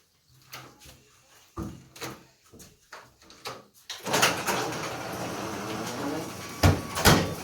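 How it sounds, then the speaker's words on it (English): A garage door is shut with a clatter of rattling, sliding and banging sounds, followed by a louder rolling rumble and final thuds in a home garage. "shut the garage behind me"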